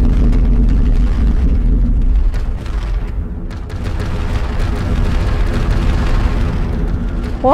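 Heavy gunfire and booming explosions in a Bismarck battleship video game, a dense, loud rumble of blasts with sharp bursts layered through it.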